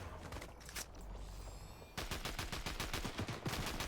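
Rapid bursts of gunfire in Fortnite, faint and distant at first, then a dense run of quick shots under game ambience.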